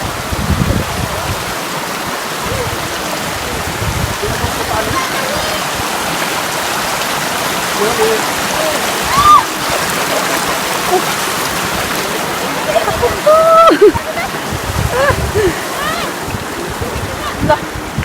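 A river on a mountain trail rushes steadily and loudly, its continuous broadband roar filling the whole stretch, with a few faint voices and brief chirps rising above it.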